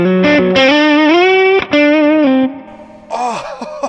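PRS McCarty 594 Hollowbody II electric guitar with a satin nitro finish, played through both humbuckers: sustained, slightly driven notes and bends ring out close and loud, then fade as a brief voice sounds at the end.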